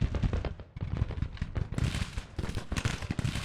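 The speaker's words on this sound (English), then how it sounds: "The Napoleons are firing." Napoleon cannons firing in the Civil War strategy game Grand Tactician, a rapid, uneven series of booming shots rolling one after another at close range.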